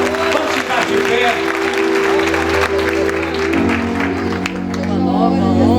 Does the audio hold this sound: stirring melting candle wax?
no